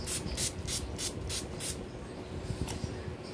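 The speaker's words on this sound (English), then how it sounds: "We're going to spray our eyes again with this matte before we do mascara" Matte setting spray misted over the eyes before mascara, a run of six quick close hissing spritzes in rhythm, then quiet.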